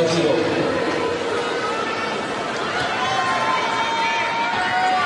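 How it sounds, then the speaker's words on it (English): Steady murmur and chatter of a tennis crowd in the stands at the Australian Open during a men's match between Agassi and Baghdatis, a continuous dense buzz of many voices with no single voice standing out. "Just a buzz in the crowd. It's more like a baseball game. It's never really quiet."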